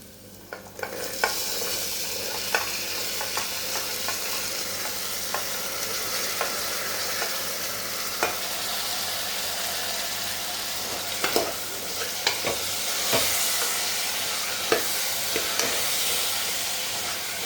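Washed chickpeas sautéing in onion-tomato masala in a pan, a continuous close frying hiss with scattered stirring clicks and scrapes throughout.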